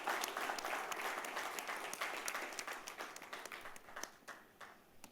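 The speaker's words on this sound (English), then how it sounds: "So can we have a big clap?" An audience claps for a speaker at a talk on technology, with steady applause at first that thins and grows more scattered toward the end, with no voices.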